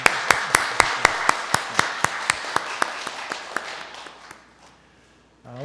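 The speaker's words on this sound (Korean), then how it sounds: "우리 격려의 박수 부탁합니다" Church congregation at a Sunday service, with a few people clapping in a slow, regular, closely synchronized beat that weakens and dies away before a voice briefly comes in.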